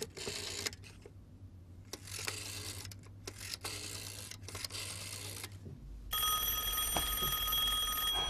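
A telephone rings indoors during a Chinese wartime drama. After a stretch of muffled background noise, a bright, steady electronic ring starts near the end and carries on clearly and fairly loud.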